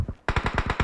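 Rapid automatic gunfire in PUBG, a burst of about six close, loud shots in quick even rhythm after a brief quieter stretch with fainter shots.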